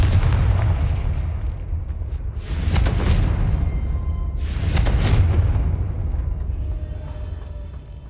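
Confringo spell blasts in Hogwarts Legacy, two heavy booming explosions a couple of seconds apart, each with a sharp crackling burst over a deep rumbling tail, then a faint lighter pop.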